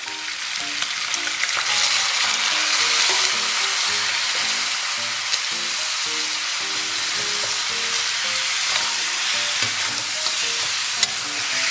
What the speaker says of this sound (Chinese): 然后咱们小火给它煸炒一下， 然后把提前准备好的调料全给它放里边